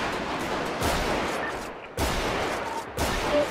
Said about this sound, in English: Bro's got a shotgun airing that bitch out